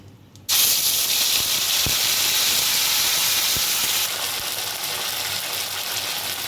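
A paste of ground ginger, cumin and green chilli hits hot oil in a sudden loud burst of hissing sizzle, then settles into a steady, slightly softer sizzle with a few faint clicks.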